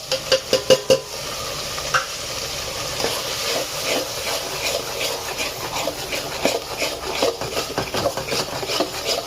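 Ground spices for a Maharashtrian crab curry being stirred and roasted in a hot pan, with a steady soft sizzle and hiss under scraping stirs, a few sharper clicks early on.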